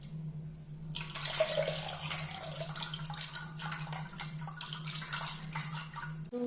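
Dissolved tamarind water pours into a pot for Tamil-style fish curry, a steady close splashing trickle with a low hum underneath, no talking.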